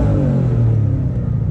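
A Ford GT's exhaust during a drive, a loud, close, deep engine rumble that swells steadily as the car revs, with no talking over it.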